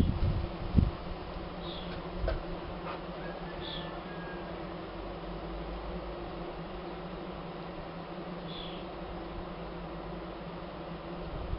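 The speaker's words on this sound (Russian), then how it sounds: "Сейчас гоняем пчел отсюда." A honeybee swarm buzzing at a nest built among ceiling boards, a continuous close drone with no pauses and a few brief knocks near the start.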